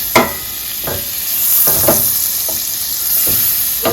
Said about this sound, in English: To my pan I'm gonna add 1 tablespoon of butter